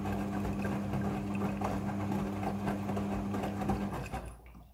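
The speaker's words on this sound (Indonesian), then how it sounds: "Mesin cuci front loading sudah full automatic dalam mencuci." Midea front-loading washing machine running an automatic wash cycle, a steady mechanical hum with a low motor drone and faint rhythmic churning throughout, close by, winding down in the last half second.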